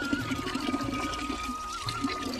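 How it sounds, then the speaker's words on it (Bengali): Water gushing hard from a household tap, a steady loud rushing stream that continues throughout with no talk over it. "জোর জল পড়ছে কলে"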